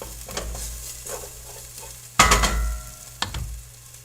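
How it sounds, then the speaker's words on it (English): Garlic fries in a pot at the start of a lamb stew, with a quiet steady sizzle. It is broken by a few sharp scraping stirs, the loudest just past the midpoint and another shortly after. "But I want to fry this garlic just a bit, get that aromatic stuff to release."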